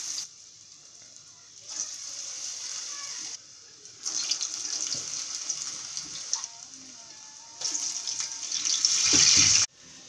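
Medu vada batter sizzles in hot oil in a home kitchen, a steady hiss that swells each time pieces of batter are dropped in, fairly close and continuous, with brief quieter gaps.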